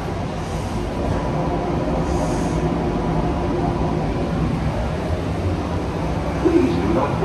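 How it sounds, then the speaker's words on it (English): Steady rumbling hum of the DFW Skylink automated airport train departing Terminal E, constant and fairly loud throughout, with a faint clunk near the end. "Please do not block the doors. This train is departing. Doors are closing."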